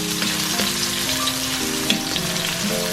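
Onions frying in a pan for igado make a loud, continuous sizzle close by, with background music tones running beneath the hiss.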